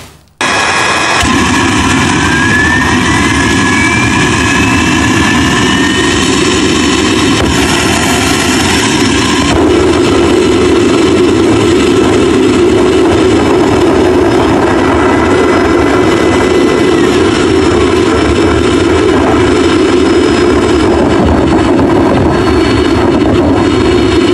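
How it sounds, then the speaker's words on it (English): A homemade afterburning turbojet engine runs with a loud, steady, roaring whine that continues without a break, with no talking over it. "build a functioning, self-sustaining, afterburning turbojet engine"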